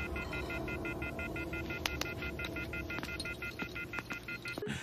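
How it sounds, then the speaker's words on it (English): In a movie scene, a telephone beeps in a regular run of short, evenly spaced electronic tones, heard at moderate distance over background noise with a few scattered clicks. "the phone is like, beep, beep, beep"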